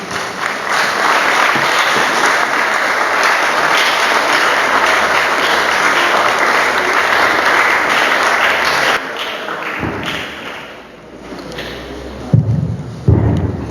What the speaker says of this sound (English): With a standing ovation and a round of applause, let's welcome Professor De-Valera Botchway.